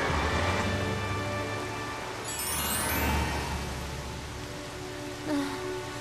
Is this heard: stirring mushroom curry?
no